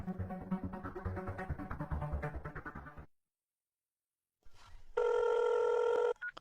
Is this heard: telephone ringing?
yes